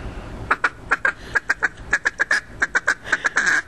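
A duck call blown in a rapid, choppy series of short quacks imitating a duck feeding chatter, close and clear, with the notes bunching into quick runs.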